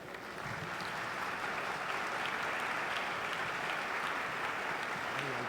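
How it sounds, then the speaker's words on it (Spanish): Steady, fairly faint audience applause welcoming Archbishop Alberto Suárez Inda at a gathering of Mexican bishops, an even wash of clapping heard from a distance. "Vamos a recibir a don Alberto con un fuerte aplauso"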